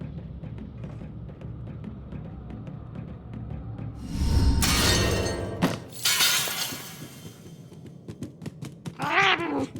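Game sound from Murdered: Soul Suspect: a low ambient drone gives way to a loud glassy shatter with clattering debris, a second crash follows, then a cat meows clearly near the end.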